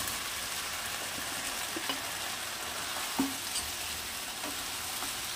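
Chopped bottle gourd stir-fries in a pan for Bengali lau shukto, a continuous soft sizzle with occasional light stirring clicks, steady and close.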